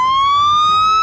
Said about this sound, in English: He was cut off by the sound of a blaring horn, like that of a fire truck.